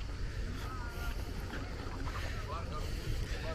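A motorboat engine drones steadily throughout a boat trip along the coast, mixed with wind buffeting and water rushing past the hull.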